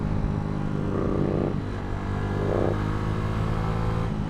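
Loud motorcycle exhaust roaring continuously nearby as a rider cruises on a road, a dense throbbing engine drone that swells slightly around the middle, no speech over it.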